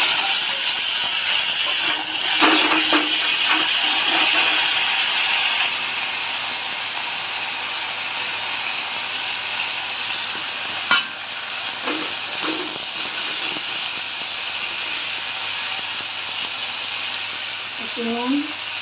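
Taro leaves hit a hot pan with a steady, bright sizzle of hissing steam, loud at first and then settling to a constant fry, with a few soft clinks and stirring noises.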